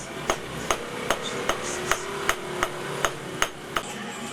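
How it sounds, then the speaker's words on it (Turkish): Blacksmith hammering heated iron in a small forge workshop: sharp metallic hammer strikes land in a steady rhythm, about eleven blows roughly 0.4 seconds apart, close and clear over faint workshop background. "demircilik sanatını icra eden Gökmen Gürban, ateşte ısıtılan demiri çekiçle işleyerek teknolojiye direniyor."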